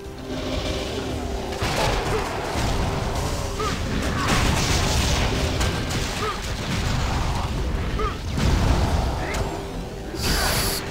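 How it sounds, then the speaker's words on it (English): Skull missiles bursting in the video game Torchlight 2, a dense run of booming explosions and crashing impacts layered over busy game action and sound effects, loud and continuous throughout. "Skull missiles."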